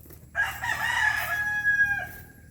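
A hen calls out once with a long, drawn-out cry lasting about a second and a half, fairly close and loud, with no talking.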